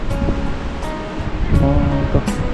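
The Bang Hiang river runs with a steady rushing wash of water close by, with faint murmured voices underneath.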